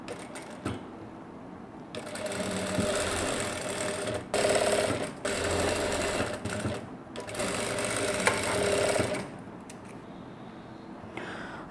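An electric sewing machine stitches a folded strip for a saree blouse in several steady whirring runs separated by brief pauses, close and mechanical, with faint speech in the background.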